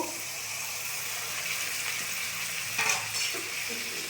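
Ghugni sizzling in a kadai as it is stirred, a dense, continuous close hiss with a few brief scrapes near the end, no voices.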